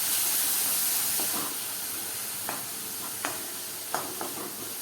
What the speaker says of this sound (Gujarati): ડુંગળીને આપણે સાંતળીએ